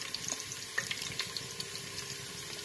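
Beef marinated in ground onion and spice paste fries in oil for gulai daging batang pisang, giving a steady fine sizzle with scattered crackles and pops close by.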